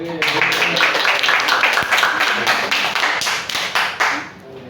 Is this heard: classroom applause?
yes